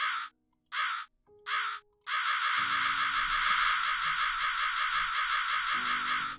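A crow in the Rusty Lake Hotel game caws loudly, a few short harsh calls followed by one long sustained caw over a low mechanical drone.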